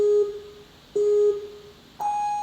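Electronic start-timer countdown on a ninja obstacle course: two identical mid-pitched beeps about a second apart, then a higher, longer go tone, each clean and electronic, with no talk over them.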